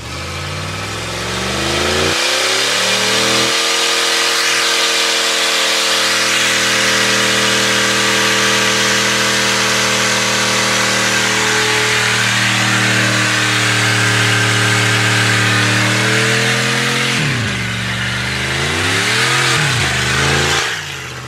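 A lifted 2021 GMC 3500 truck on new rims roars through a single-wheel burnout, its engine held at loud, sustained high revs for many seconds, then dropping and surging again near the end.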